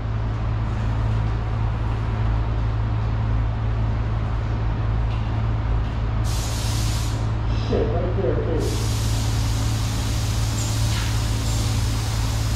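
A cheap paint spray gun hisses in bursts while painting a minivan bumper, the sharp airy spray cutting in over a constant low compressor-like drone.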